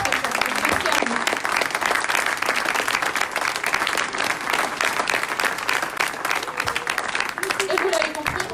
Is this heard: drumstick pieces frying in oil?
no